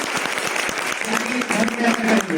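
Applause from an audience welcoming a guest at an inspirational talk, with many claps in a fast, dense patter. A voice speaks over the clapping partway through.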